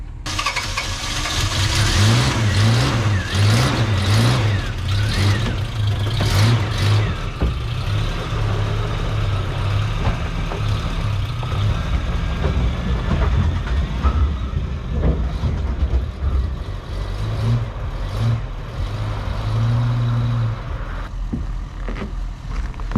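A 1985 Toyota 4Runner engine runs loudly and steadily after a hard start, its low rumbling idle continuous throughout with occasional revving swells and no talk.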